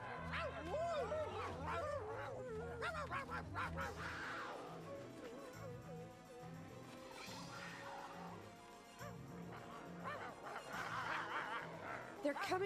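Dogs bark and yip in a Polish-dubbed Lion King cartoon, sharp repeated barks mixed with music and voices talking throughout.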